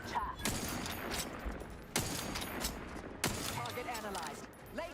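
Sustained volleys of gunfire from the video game The Outer Worlds 2, with three sharp louder shots standing out over dense continuous combat noise, mixed with voices.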